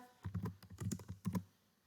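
Fingers tap on a computer keyboard in quick, faint clusters of keystrokes, close by in a quiet room.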